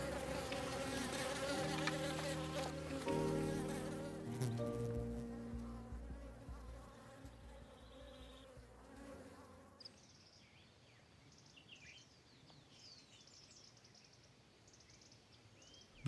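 A dense swarm of native Apis honey bees buzzes loudly and continuously at first, with layered droning wingbeat tones, then thins to a fainter, scattered hum.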